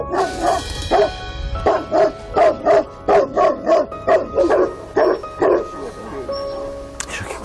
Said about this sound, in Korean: 왜 이렇게 외부인을 마주할 때마다 무섭게 짖고